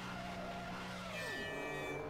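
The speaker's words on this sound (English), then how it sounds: "You can hear Johnny's engine revving." A race car on the start line at Silverstone in rFactor 2 revs with a continuous, rising engine whine that grows brighter and higher toward the end, faint but steady with no talking.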